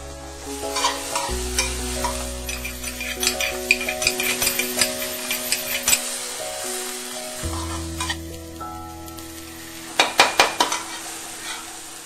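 Beans and halved capsicum stir-fried in a hot pan for spring roll filling, a steady sizzle with repeated close scraping and stirring strokes, a burst of quick clatters near the end, no voices.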